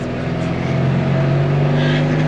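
A Fiat 126p engine revs steadily under acceleration, a loud, constant buzzing drone heard from inside the small car, with a faint voice beneath.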